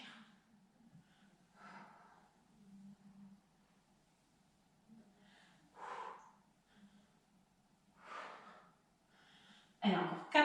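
Hard exhalations during a back, arm and shoulder strengthening exercise, several forceful breath bursts spaced a couple of seconds apart over a faint low hum, ending with a louder breath.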